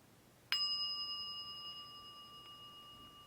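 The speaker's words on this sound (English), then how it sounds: "When you hear the bell, bringing your attention to the sound of the bell." A single meditation bell is struck once, ringing clear and bright with a sustained shimmering tone that slowly fades over several seconds in a quiet room.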